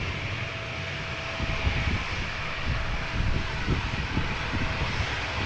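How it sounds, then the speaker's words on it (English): SAS CRJ 900 regional jet bound for Stockholm at Amsterdam Schiphol, a moderate, steady engine rumble and hiss with faint low thumps, heard at some distance without talk. "CRJ 900 going to Stockholm"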